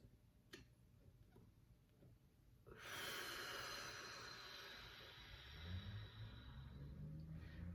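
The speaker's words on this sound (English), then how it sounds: "So we're gonna breathe in for 5." A slow, deep breath drawn in during a breathing exercise for singers: a long, steady airy rush that swells after a few quiet seconds and keeps going, with a faint low murmur near the end.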